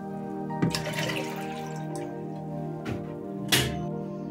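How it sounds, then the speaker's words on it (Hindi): Water poured from a bowl over rinsed chana dal in a cooking pot, a steady close splashing pour with a few louder gushes and background hum. "तो 1 बाउल से थोड़ा सा कम चना दाल था, तो मैं 2 बाउल पानी डालूंगी इसमें।"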